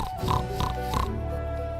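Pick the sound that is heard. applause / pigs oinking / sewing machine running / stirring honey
pigs oinking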